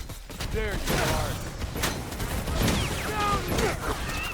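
Rapid bursts of gunfire from a Predator: Hunting Grounds match ring out close and loud, several shots in quick succession among in-game clatter and tonal effects.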